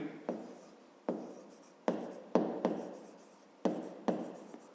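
Chalk or pen strokes from writing during a Ukrainian fifth-grade geometry lesson about triangles, close and crisp, with about seven sharp taps, each followed by a short scratching stroke, in an uneven rhythm and with no talk over them.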